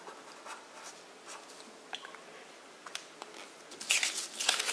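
Pen or chalk writing by hand during a middle-school science lesson, heard as faint, intermittent scratchy strokes that get busier and louder toward the end, with no talk over them.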